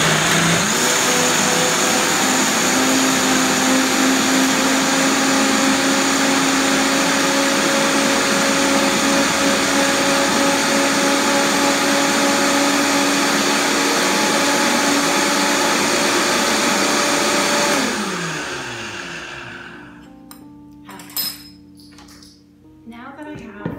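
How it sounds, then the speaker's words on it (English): Blender whirring cauliflower and cashews into a creamy Alfredo sauce, a loud steady motor roar held for about eighteen seconds, then the pitch sliding down as it spins to a stop, leaving a few faint clicks and knocks. "I'm just going to start the process of getting these into, well, getting them blended into a creamier texture"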